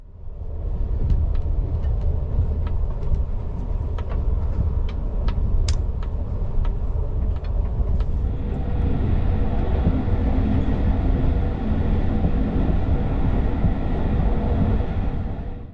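A Slovak ZSSK sleeper train rolls steadily along the rails with a continuous low rumble, faint rhythmic clicks and rattles in the first half.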